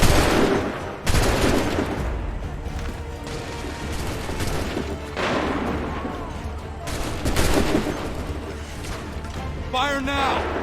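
Musket volleys crackle in Assassin's Creed III, loud dense bursts of gunfire repeating in waves with shouted battle commands mixed in.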